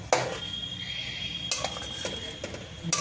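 A metal spoon clinks and scrapes against a pan while spiced potatoes are stirred for aloo dum, giving a few distinct knocks over a soft, continuous scraping, close and moderately loud.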